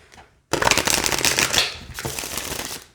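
An oracle card deck being shuffled by hand, a quick riffle of crisp rapid card flicks after a brief quiet start, followed by a second shorter burst as the cards settle back.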